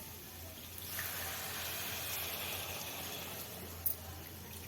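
Water being poured into a pan of tomato and broad bean curry, a steady close splashing and trickling that runs on without pause for several seconds, with no voices.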